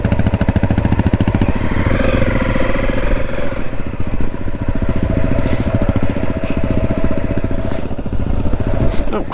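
A motorcycle rides along toward a parking lot, its engine putting out a steady loud pulsing drone with clattering throughout, close and continuous with speech mixed in.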